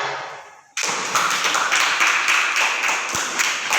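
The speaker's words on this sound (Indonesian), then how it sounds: "Tepuk tangan. Tepuk tangan ayo." Children at an Islamic primary school practical exam burst into clapping after a brief quieter moment, a dense, close round of many small hands clapping steadily until the end.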